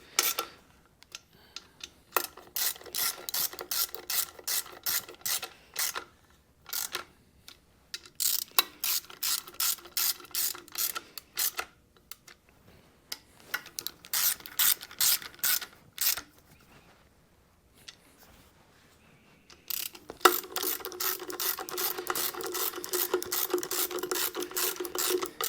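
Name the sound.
ratchet snugging down intake manifold bolts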